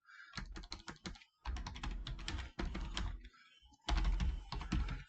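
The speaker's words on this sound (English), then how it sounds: "let's actually just type the slope formula" Keys clatter on a computer keyboard in quick, close bursts of clicks, broken by short pauses between runs of typing.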